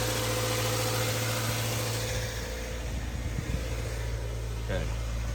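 A 2015 Subaru Forester with 150,000 miles idles steadily with its air conditioning off, a low constant engine hum and vibration close by, with a voice speaking over it.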